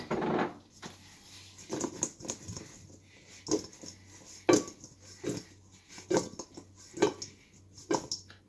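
Raw chicken wings for buffalo wings being tossed with flour in a small home-kitchen bowl, irregular soft thuds and clatter of the bowl and utensil repeating about once a second, close and moderately quiet.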